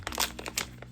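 A bag of coffee beans being opened, with a short burst of crinkling and crumpling of the bag material, close and quiet, lasting under a second.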